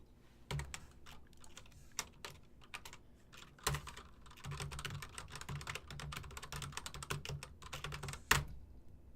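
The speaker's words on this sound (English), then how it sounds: "I'm banging away on my mechanical keyboard" Rapid clattering keystrokes on a large mechanical keyboard, steady and close, with a few louder key slams standing out among the continuous typing.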